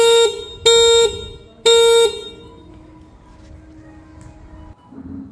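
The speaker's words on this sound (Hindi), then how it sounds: "हॉर्न का साउंड जो नए वाला स्कूटर मेरे को काफी अच्छा लगा।" A new Ola electric scooter horn sounds three loud, short beeps in quick succession, followed by quiet background hum and a faint rise at the end.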